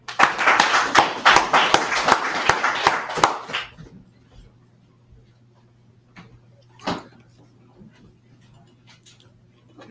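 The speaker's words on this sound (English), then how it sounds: "His brother, a round of applause." Brief burst of congregational clapping at a Feast of Tabernacles closing service, dense and fairly loud for about four seconds, then cutting off to near silence with a steady low hum and one isolated knock.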